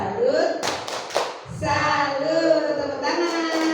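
A seminar audience at a teacher orientation in Surakarta performs the rhythmic 'tepuk salut' clap, patterned bursts of hand claps alternating with loud group voices chanting along in time.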